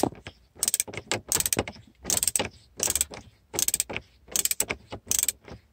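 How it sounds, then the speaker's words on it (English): Phillips screwdriver turning a screw out of a Nissan Titan stereo faceplate, giving rhythmic bursts of close ratcheting clicks and scraping with short gaps between turns. "back here is one Phillips screw, so just take a Phillips screwdriver and you can remove that"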